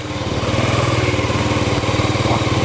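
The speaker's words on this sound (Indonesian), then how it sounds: "Itu ada suara motor." A motorcycle engine runs steadily close by, a loud, even low throbbing that holds through the whole stretch with no voices.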